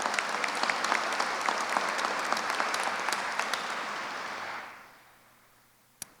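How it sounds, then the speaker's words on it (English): Audience applause for sponsors at an Italian American Heritage Month opening ceremony, a dense, even round of clapping that fades out over about a second, followed by a single sharp knock. "So let's have a round of applause for our sponsors."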